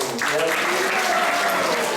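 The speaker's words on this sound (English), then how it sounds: "Let's give a round of applause for Shikhimahiti." Audience at a Sunday class in an ISKCON temple in Atlanta breaks into a round of applause, dense continuous clapping with some voices mixed in, close and fairly loud.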